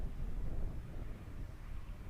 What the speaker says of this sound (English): We talked about how windy it is here.